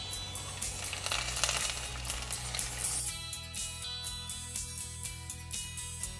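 Finely chopped ginger and garlic sizzle in hot oil with popping mustard seeds, a steady loud fry that shifts partway through with a faint clink of utensils and a regular stirring pulse, close up.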